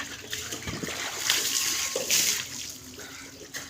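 Water splashes softly during bathing, a few scattered splashes and pouring sounds, fairly faint and close.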